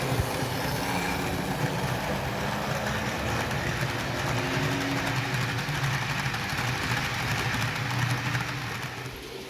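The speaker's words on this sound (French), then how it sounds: "Une locomotive diesel de la série 20-200 est déjà en train d'être tirée à Würzburg." A model diesel locomotive of the DB class 220 (V 200) series runs steadily on a miniature railway, giving a continuous close whirring and rumbling drone that fades slightly at the end.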